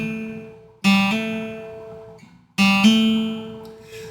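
Twice, an open third string on a guitar is picked and a fretted note is hammered on right after, each pair ringing clearly and decaying with a short pause between them.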